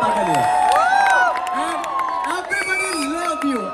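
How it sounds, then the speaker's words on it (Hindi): A crowd at a Raas dandiya Garba night in Bilaspur cheering and clapping for Shweta Tiwari at her birthday celebration, loud mixed shouts and applause with a voice talking over it and sweeping feedback-like tones. "एक बार जोरदार तालियां श्वेता के लिए"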